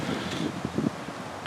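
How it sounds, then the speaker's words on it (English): Wind gusts up to about 20 mph buffet the microphone in low, rumbling gusts, rising and falling briefly with a faint rustle behind. "They said wind gusts up to 20 miles an hour."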